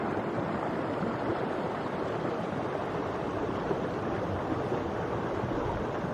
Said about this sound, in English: Little side creek that comes in.